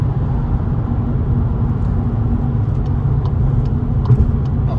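A Skoda Fabia cruises in seventh gear on a road trip, heard from inside as a steady, close road and engine rumble with no revving, just a constant droning hum.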